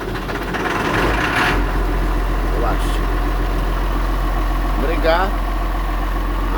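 A tractor diesel engine idles after a cold-weather start, a steady low rumble close by with a few faint clanks, while someone talks briefly over it.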